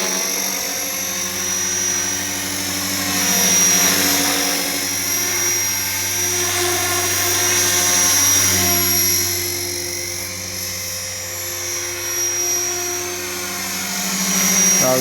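An Align T-Rex 470LP radio-controlled model helicopter hovers nearby, its rotor and motor giving a steady, loud buzzing whine with slowly swelling and fading pitch, heard alone with no talk.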